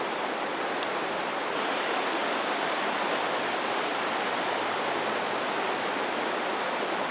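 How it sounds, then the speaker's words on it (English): Rushing water of a mountain stream in the Smoky Mountains, a dense, even broadband roar that holds steady and close throughout with no voices. "Rushing water"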